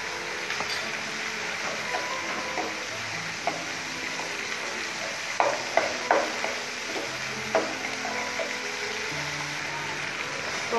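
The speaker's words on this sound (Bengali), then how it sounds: "আর একটু ভাজা ভাজা হলে আমি সসটা নামিয়ে ফেলবো।" Homemade tomato sauce frying in a pan, a steady soft sizzle throughout with occasional sharper clicks and stirring scrapes near the middle, heard close with no talking.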